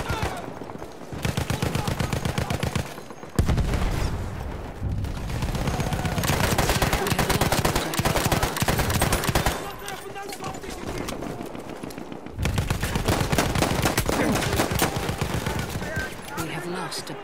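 Gunfire in the shooter Battlefield 1 during a Conquest match, long loud bursts of rapid automatic fire broken by short pauses, with battle noise throughout.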